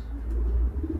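Arab pigeons of the arkatepe type cooing softly, a brief low murmuring coo heard close up with no voices.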